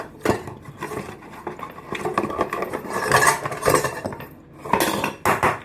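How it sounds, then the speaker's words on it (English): Coffee rattles and clatters inside a metal cocktail shaker in irregular bursts of shaking, with sharper metallic knocks near the end, close and fairly loud. "Coffee next with the shaker."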